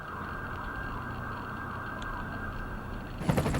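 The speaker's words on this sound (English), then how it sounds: "Hold for siren." A steady wash of distant outdoor noise, like far-off traffic, runs throughout and rises briefly into a louder burst near the end, with no voices.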